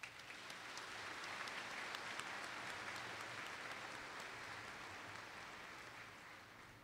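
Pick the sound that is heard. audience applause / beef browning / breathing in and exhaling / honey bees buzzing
audience applause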